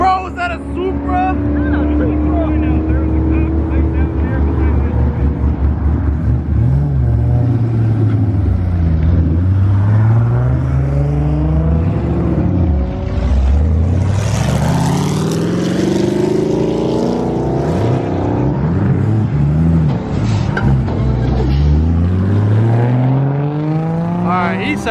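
A Toyota Supra sports car drives past at a cars and coffee meet, its engine note rising and falling loudly as it passes close by, with people talking nearby.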